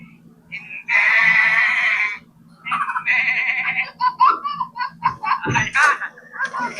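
Goat bleating in short nasal bursts, a long sustained call followed by several shorter choppy bleats, fairly close and loud against a faint background hum.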